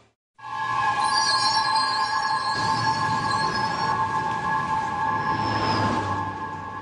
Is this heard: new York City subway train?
yes